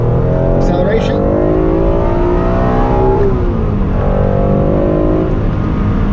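An Acura NSX engine revs hard and climbs steadily to a high-pitched scream at 8,000 rpm, loud and close, with a brief voice near the start.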